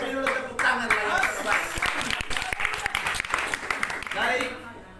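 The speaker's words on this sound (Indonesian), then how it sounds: "Beri dulu tepuk tangan lagi." A church congregation claps in a sustained round of applause lasting several seconds, with voices speaking over the clapping.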